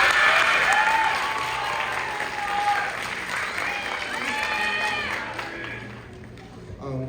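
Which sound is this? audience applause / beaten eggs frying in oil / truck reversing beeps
audience applause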